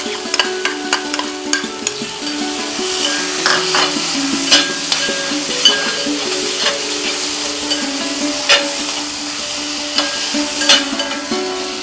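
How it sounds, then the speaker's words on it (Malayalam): Breadfruit masala frying in a pan and being stirred, with steady sizzling and repeated scraping and clinking of the spoon against the pan throughout, fairly close and continuous, with no talk. "നല്ലോണം ഒന്ന് യോജിക്കണ വരെ ഒന്ന് ഇളക്കി എടുക്കാം."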